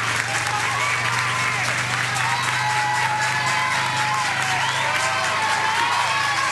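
A Clever crowd at a high school baseball semifinal claps and cheers loudly and steadily close by, with whoops in the mix and a commentator's voice over the noise.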